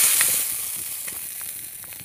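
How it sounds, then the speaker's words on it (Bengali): Prawns fry lightly in hot oil in a kadai, a bright steady sizzle with scattered pops and crackles, up close and gradually easing a little in loudness. "আমি চিংড়ি মাছগুলো একদম অল্প করে ভেজে নেব।"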